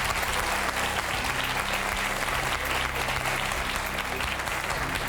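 A television studio audience applauds loudly and continuously, a dense wash of clapping with no pause.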